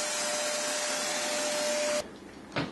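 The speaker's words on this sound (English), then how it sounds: "Well, we scraped the paint lip off, splitting the work, and then vacuum up the scrapings." A vacuum cleaner sucks up paint scrapings from a molding job, giving a steady, fairly faint whine that cuts off abruptly near the end, followed by a brief thump.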